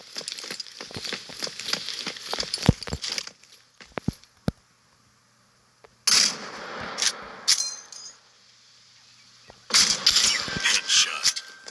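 Gunfire from a scoped rifle in the shooter game Lost Light: sharp, separate shots with bright impulsive cracks, one burst around midway and more after a quiet gap, against faint background game sound.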